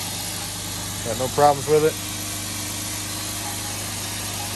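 A 2009 right-hand-drive Jeep Wrangler, its 3.8-liter replaced by a swapped van engine, idles smoothly with a steady, even hum throughout while someone speaks briefly over it.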